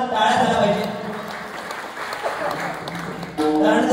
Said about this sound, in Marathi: तर खरोखर या साऊंडवाल्यासाठी का जोरदार टाळ्या झाल्या पाहिजे।